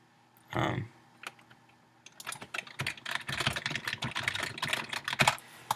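Rapid clicking of computer keys, a burst of irregular keystrokes building in pace, preceded by a brief muffled thump.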